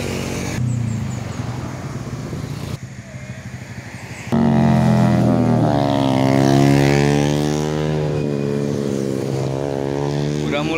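Big motorcycles race along a busy, winding road with traffic, their engines droning loudly and rising in pitch as they accelerate past, with a brief drop midway and a louder surge that continues steadily.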